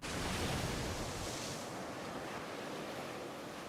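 A chocolate waterfall in the video game Fate Grand Order, during a Valentine event, gives a steady, dense rushing roar like pouring surf that stays loud and unbroken throughout.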